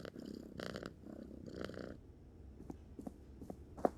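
A cat purrs in the Slender Threads video game, a low rumbling purr in a few close pulses, then quieter with small scattered clicks and soft bumps at the end.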